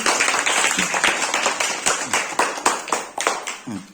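Children clapping together in a room, a brisk run of uneven claps lasting several seconds, fairly close and loud, with faint voices at the very end.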